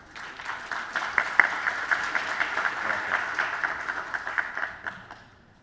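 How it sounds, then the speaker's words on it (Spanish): Audience applause at a conference on extractive metallurgy and mineral processing, welcoming a guest speaker: dense, sustained clapping from a crowd that builds quickly, holds steady for several seconds with a few sharper claps standing out, then tapers off. "con un fuerte aplauso"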